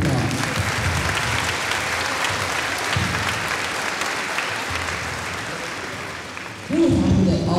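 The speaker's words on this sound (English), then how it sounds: "Please give him another one round of applause." Audience applause at a school band concert fills the room, steady and dense for several seconds, fading slightly before a louder burst at the end.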